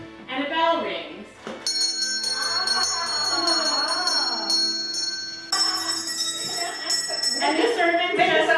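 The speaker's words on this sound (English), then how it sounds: "When a family members turn a handle called a bell pull, it tugs one of these wires and a bell rings." A servant's bell in Dundurn Castle, rung by a family member turning a bell pull that tugs a wire, gives bright ringing strikes that sustain over a continuous murmur of voices in a historic interior.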